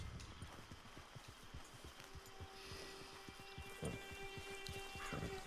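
Horse hooves clip-clop in a steady rhythmic trot on hard ground in the video game Red Dead Redemption 2 Online, soft and a little distant, with a faint tonal hum underneath.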